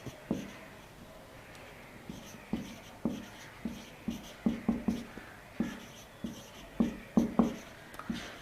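Chalk or marker writing on a board during a physics lecture on projectile motion, with rhythmic tapping strokes and short scratches repeating steadily at close range.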